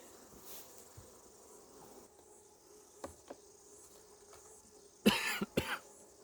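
A beekeeper coughs from smoker smoke while working a honey super outdoors: a quiet stretch with faint insect buzz, then two or three harsh, close coughs in quick succession near the end.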